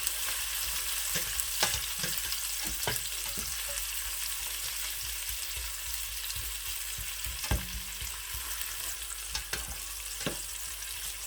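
Spices tempering in hot oil for mutton rice sizzle and crackle steadily, a soft, constant frying hiss with scattered sharp pops.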